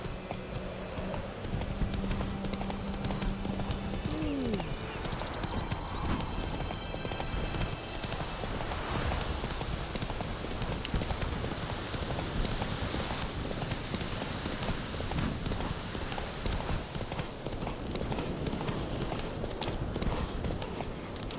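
Roach, a horse in The Witcher 3 video game, gallops with a fast, steady clip-clop of hooves that continues throughout, with rain-like ambience behind and a brief whinny early on.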